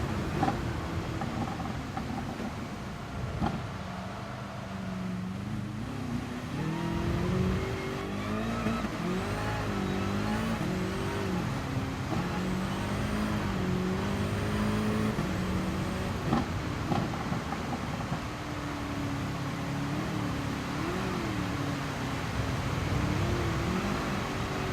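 A BMW race car running on a wet track, its engine note rising and falling steadily through the gears with repeated acceleration and lifts, loud and continuous from onboard, with occasional tyre hiss and no talking.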